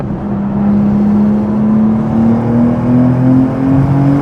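A BMW G87 M2 engine accelerates hard from inside the cabin, a steady droning note climbing gradually in pitch as revs build, loud and continuous without any talk.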